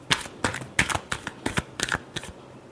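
Tarot cards are shuffled in a run of about eight crisp riffling bursts, each a quick papery flutter spaced roughly a third of a second apart, close and fairly loud with no voice over them.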